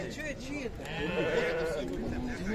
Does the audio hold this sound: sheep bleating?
yes